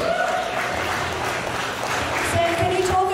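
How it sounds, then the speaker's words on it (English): An audience at the Proraw Circus Freaks 2022 strength event gives a round of applause for the referee and judge, steady crowd clapping with faint voices and murmurs mixed in. "Let's get a round of applause for Sam, ladies and gentlemen"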